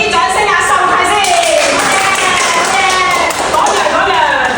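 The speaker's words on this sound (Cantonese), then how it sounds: "我哋俾啲掌聲啊" A group of people applauds with dense, continuous clapping that stays loud throughout while voices talk over it.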